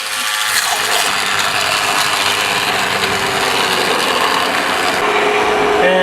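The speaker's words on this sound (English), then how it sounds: "we're going to blend it up." Countertop blender whirring steadily as it purées a homemade pasta sauce seasoned with salt and pepper for a lasagna, a loud, continuous grinding roar held for several seconds without pause.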